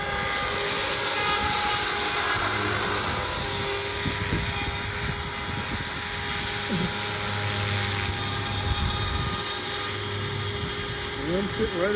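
A Bluethunder 500 size RC helicopter with new blades and tail unit hovers nearby, a steady whining rotor and motor drone with a low hum underneath, while someone talks over it.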